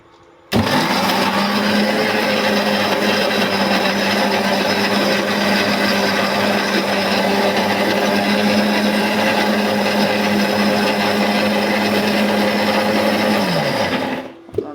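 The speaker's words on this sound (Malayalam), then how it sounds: "ഇട്ട് വെച്ചിട്ട് മിക്സി ഓണാക്കി വയ്ക്കുക." A mixer grinder starts abruptly and whirs at a steady high pitch for about fourteen seconds, blending arrowroot with water, then winds down and stops.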